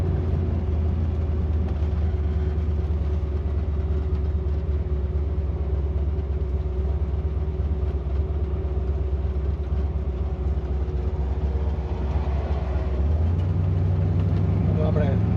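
A 1968 Camaro convertible drives along with a steady, loud engine and drivetrain rumble heard from inside, road noise constant and the engine note rising near the end as the transmission shifts.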